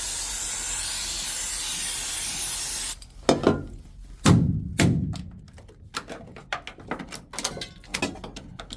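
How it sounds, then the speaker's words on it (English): A continuous hissing spray can runs for about three seconds during sound deadening removal on a Mitsubishi Magna, followed by scraping, knocks and clatter from handling something nearby. "Spray that on there."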